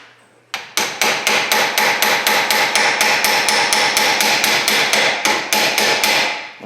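A big hammer pounds on a Jeep Compass suspension part in a rapid, steady series of loud metallic blows, about twenty strikes in quick succession, close and ringing, with no talk.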